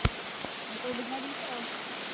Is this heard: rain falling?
yes